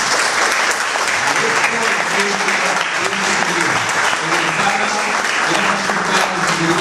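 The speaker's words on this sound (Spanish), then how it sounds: "Recibamos con el aplauso cariñoso a la maestra Nancy Zulema Reyes Cabrera." Warm applause fills a hall at a nursing graduation ceremony, steady and loud throughout, with a voice speaking over the clapping.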